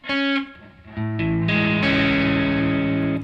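Distorted electric guitar chords ring out, a short one first, then a fuller sustained chord swelling with a shimmering, chorus-like effect.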